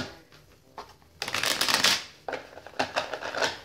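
New matte-finish tarot cards are shuffled close up in a few quick riffling bursts, with papery flutters separated by brief pauses.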